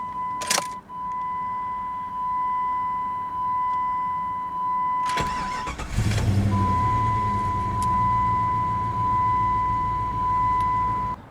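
A 1998 Jeep Grand Cherokee Limited with a 5.2-liter V8 starts up after a dashboard warning chime: a short crank burst, then the engine catches into a steady close idle while the tone keeps chiming.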